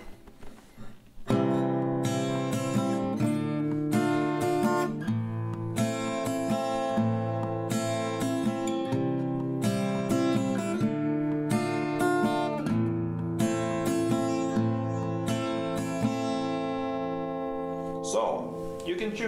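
Acoustic guitar strums the chord progression of a song at full tempo, steady down-and-up strokes ringing close and bright for nearly twenty seconds after a brief quiet start.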